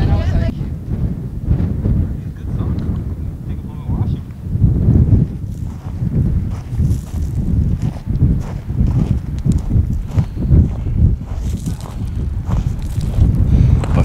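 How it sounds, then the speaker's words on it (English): Strong gusty wind on a mountain summit buffets the microphone in low, rumbling surges, steady and blustery throughout with no break. "Nice and windy."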